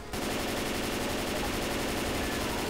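Rapid automatic gunfire in Left 4 Dead 2, a dense, unbroken stream of shots after a brief silent start, loud and close, with no voices.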